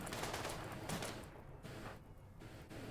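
Rapid gunfire from a video battle game crackles in dense, muffled bursts that pulse and fade over a few seconds, heard without talking.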